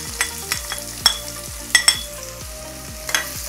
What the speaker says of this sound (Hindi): हमारा तेल अच्छे से गर्म हो चुका है। अब हम इसके अंदर डालेंगे अनियंस,